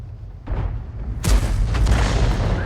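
A tank gun fires in the World of Tanks video game, a heavy low boom followed by a second louder blast with a rumbling tail, heard alone.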